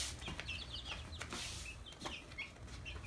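Young chicks in a brooder on a homestead give a string of faint, high, quick cheeps over a soft background hiss.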